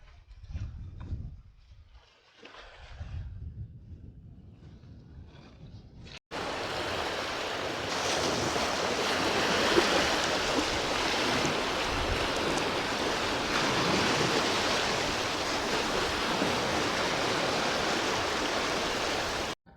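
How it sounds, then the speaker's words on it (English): Strong wind and breaking surf on a beach at Caleta de Fuste, Fuerteventura, a steady loud roar that cuts in abruptly after a few seconds of quieter, gusty sound and carries on without a break. "Yeah, it's windy."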